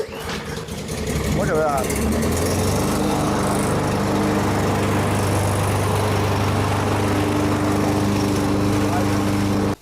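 A lawn mower engine fired with a pull cord, freshly fuelled with AMSOIL, catches and settles into a loud, steady, close running drone that holds until it stops abruptly at the end; someone speaks briefly near the start.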